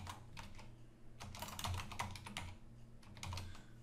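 Keys clatter in a steady stream of typing on a computer keyboard while entering data into an Excel table, close and fairly quiet, with a low hum underneath and no talking.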